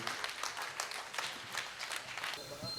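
Applause and a standing ovation for poet Professor Waseem Barelvi as he comes to the microphone at the Patna All India Mushaira, steady crowd clapping with scattered louder bursts, fading near the end.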